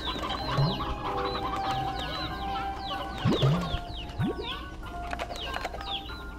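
Chickens, including a rooster and chicks, cluck in the video game Slime Rancher 2, with short bird calls scattered over a steady background of game ambience.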